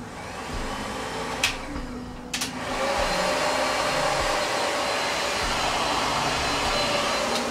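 A hair dryer with a diffuser attachment on its nozzle blows a steady, loud airy whir at a salon, with two brief clicks early on before it settles into a constant roar.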